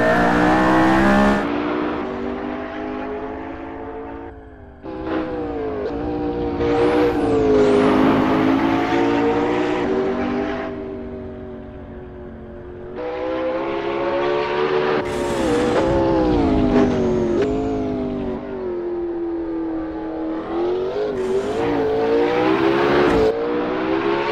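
A McLaren P1 in a racing video game (Assetto Corsa and Project Cars 2): loud, continuous engine roaring through rising revs and gear changes, with brief tire squeals over the sustained drone.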